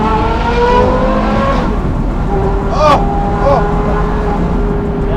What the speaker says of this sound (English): Oh, the sound of the exhaust.